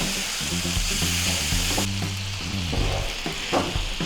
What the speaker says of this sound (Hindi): अभी हम इसमें डालेंगे चिकन। अच्छे से मिक्स कर लेंगे।